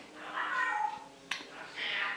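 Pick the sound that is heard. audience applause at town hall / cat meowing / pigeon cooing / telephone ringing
cat meowing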